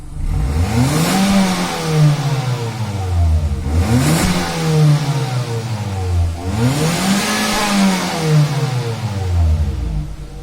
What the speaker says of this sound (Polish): Teraz pojedziemy zrobić pomiar głośności, auto seryjny wydech.